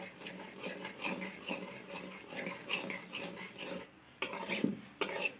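Milk cream simmering down into homemade ghee in a pot, stirred in a steady rhythm of soft scraping strokes with faint metallic clinks, quiet and close, ending in a couple of sharper knocks.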